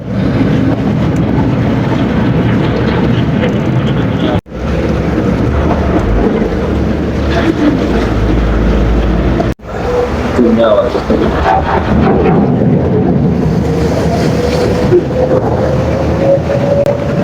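A steady motorboat engine drone with broad wind rumble and water wash runs continuously in Venice, Italy, briefly cutting out twice.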